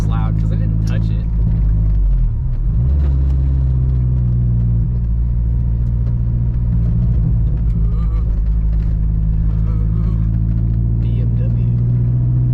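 A pickup truck engine rumbles loudly and steadily at idle with a deep, continuous drone, while someone talks over it outdoors in the snow.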